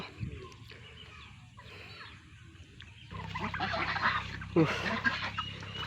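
Several turkeys gobble and cluck in the background on a farm, with a brief louder squawk near the end, over low ambient noise and faint voices.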